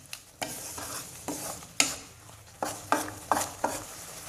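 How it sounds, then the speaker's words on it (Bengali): Olive pickle with ground spices being stirred in a pan on the stove, a series of close, sharp scraping strokes in an irregular rhythm over a faint sizzle, with no voices. "এবার আমি বাকি গুঁড়ো মশলাটা দিয়ে দিচ্ছি এবার আমি নেড়ে ছেড়ে দিব"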